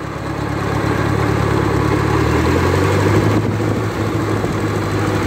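A 1953 Ferguson TEA20 tractor engine running steadily while pulling away in second gear, a loud close low rumble with the pitch shifting slightly as it moves off.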